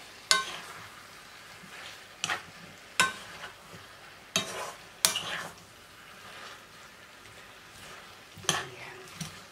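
Asparagus, bell peppers, ham and celery leaves being stir-fried in a pan, a low constant sizzle broken by several sharp, loud utensil scrapes and clanks against the pan at irregular intervals.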